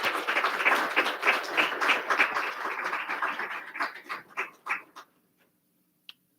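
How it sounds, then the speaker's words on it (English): Applause from the audience at a bar association panel meeting, clapping steadily before thinning into a few scattered claps and fading to near silence, with one last faint sound at the end. "I'd like everyone just to give another round of applause"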